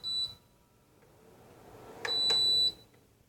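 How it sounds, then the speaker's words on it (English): A Cascade tower fan switched off by remote gives a short electronic beep, a single thin tone over a faint steady hum. "You hear a beep. That's indicating that the fan's turning off."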